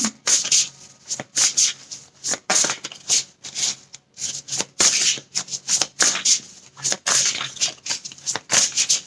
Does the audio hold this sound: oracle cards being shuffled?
yes